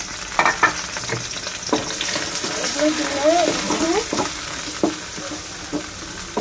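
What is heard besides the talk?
frying garlic, onion and bay leaf with spices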